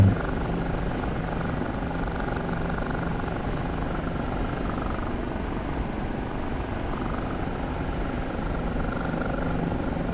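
A Kiowa helicopter flying in the DCS combat flight simulator, its steady rotor and turbine roar filling the whole stretch at constant loudness with no talk over it.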